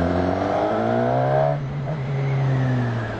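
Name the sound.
Suzuki Katana four-cylinder motorcycle engine accelerating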